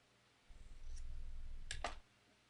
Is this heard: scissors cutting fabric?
yes